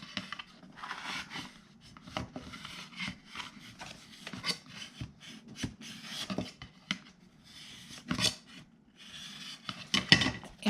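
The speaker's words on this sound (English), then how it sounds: "I'm going to use my big old spatula just to go in, put some pressure" A big spatula scraping and pressing firmly over folded paper napkin on a craft box, irregular close rasping strokes in bursts with sharper scrapes toward the end, no talking.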